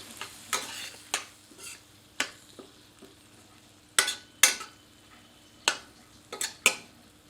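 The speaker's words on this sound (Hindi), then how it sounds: "इसमें कटा हुआ टमाटर सम्मिलित करते हैं। इसे अन्य सामग्री में अच्छी तरह मिला देते हैं।" Chopped tomato being stirred into a chicken masala in a pan, with repeated sharp ladle clacks and scrapes against the pan over a faint sizzle, irregular and close.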